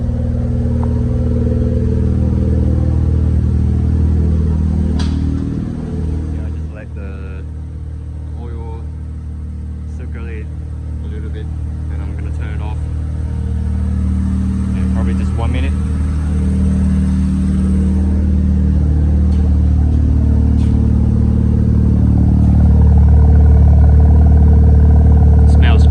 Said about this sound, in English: It all sounds like the engine starts slightly smoother than before.